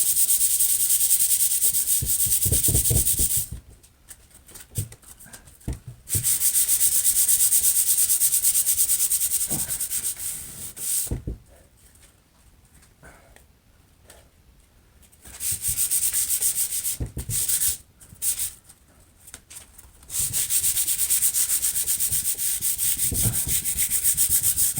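Electric sander working a not fully dried wooden kitchen table with a clogging sanding sheet, a loud steady abrasive whir that cuts out several times into near silence before starting again, no talk.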